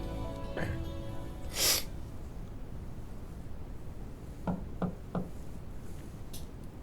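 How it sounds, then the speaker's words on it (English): Three quick raps on a door in the Trails of Cold Steel video game, evenly spaced and crisp, heard over a steady background hiss after an earlier burst of game sounds. "Knock and enter."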